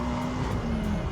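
A BAC Mono race car rolls in at Anglesey Circuit on a windy track day, its engine a steady, fairly loud drone with a sustained low hum and no break over the short stretch.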